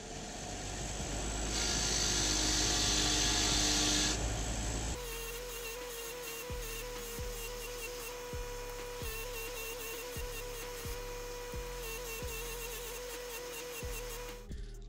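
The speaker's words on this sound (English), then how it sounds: "take it over to the grinder with the wire wheel" Bench grinder with a wire wheel cleaning engine case nuts: a loud steady motor whine for the first five seconds, then a running grinder with repeated short scraping bursts as each nut is pressed against the spinning wheel.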